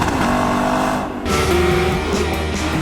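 A sports car engine revs with a deep, growly tone, loud and close, surging again after a short dip, with no talk over it.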